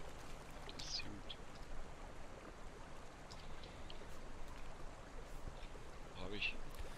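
River water flows steadily in the Conan Exiles video game, a soft, continuous rushing wash at moderate distance with a few faint splashes and drips throughout, and no one talking over it.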